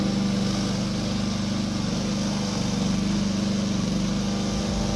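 A small pull-start engine on a VTW550-90 radio-controlled mowing robot runs at a steady, even drone. The sound stays close and continuous throughout, with no voices.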